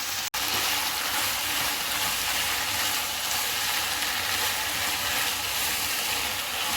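Macaroni sauce of ketchup, mayonnaise and lemon juice cooking in a pan, a steady, loud broadband sizzle that runs on evenly throughout after a brief cut near the start, with no talking.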